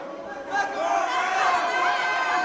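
Crowd at a wrestling event murmuring and rising in excitement as a ring announcer-manager works them up, chatter swelling beneath a nearby voice.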